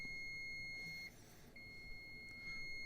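Steady high electronic tones from a Nortec 600 eddy current flaw detector's alarm gate sound, then cut out briefly and resume, with a short beep near the end; quiet, no talking.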